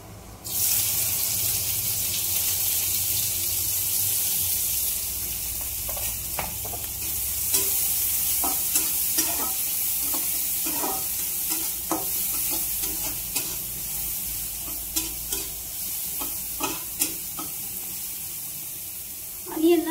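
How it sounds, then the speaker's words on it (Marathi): Chopped onion with cumin seeds frying in a pan, a steady soft sizzle with scattered stirring clicks and scrapes throughout, close and continuous, no talking over it. "त्याच्यानंतर आपल्याला हा अनियन चांगला होऊ द्यायचा याच्यामध्ये"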